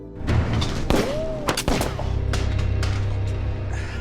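Loud gunfire in an action film, a few sharp close shots in quick succession, with a brief whizzing streak and a low rumbling tail settling after them.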